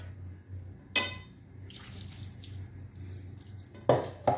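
Water pours in short bursts onto couscous semolina in a kitchen, with a splash near the start and two more near the end over a low steady hum, with no talking.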